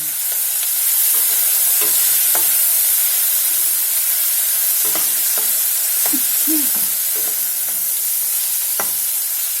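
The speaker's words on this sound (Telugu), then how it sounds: "ఇది పచ్చిమిర్చి కరివేపాకు ఇది నూనెలో వేగాలి" Green chillies and curry leaves fry in hot oil with a loud, steady hissing sizzle throughout, punctuated by scattered pops and crackles, close and continuous.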